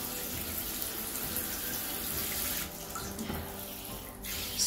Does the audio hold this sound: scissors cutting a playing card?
no